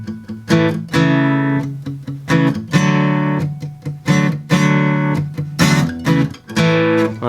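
Electric guitar playing a rock chord progression with palm-muted strums, chords struck in short bursts with brief pauses between, loud and close, no voices.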